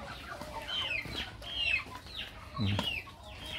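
Clucking from a hen and two young stags penned together, repeated short calls at close range with no one talking.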